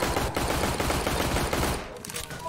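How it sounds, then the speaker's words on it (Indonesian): Dense, rapid gunfire from Left 4 Dead 2, a loud continuous burst of automatic shots for about two seconds that then thins out. "Kok ada banyak tembakan?"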